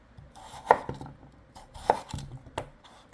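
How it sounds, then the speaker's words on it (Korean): A knife chops potatoes on a cutting board during curry prep for a large family, three or four sharp, distinct thuds spaced about a second apart, close and clear with no talking. "이제 야채를 먼저 이제 썰어볼게"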